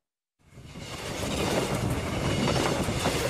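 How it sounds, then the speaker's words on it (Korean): A train on the Honam railway line passes through downtown Daejeon, a broad rumbling roar that swells out of silence and then holds steady and close, with no voices. "마지막 기차가 지나가자 대전 도심을 가로지르는 호남선 아래 터널 공사가 재개됩니다"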